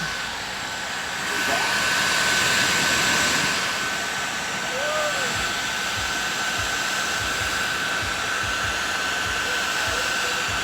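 A heat gun running on its high setting is passed back and forth over a sun-faded plastic bumper cover, giving a loud, steady airy roar that holds throughout with a slight swell early on.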